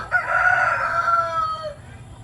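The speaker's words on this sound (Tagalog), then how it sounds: "ito yung mga manok natin" A single rooster crows loudly and close by, one long drawn-out call that tapers off at the end.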